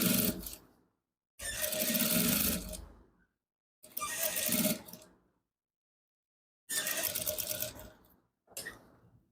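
A sewing machine stitches a shirt collar in short bursts of one to two seconds with silent gaps between, its close, buzzing motor starting and stopping repeatedly.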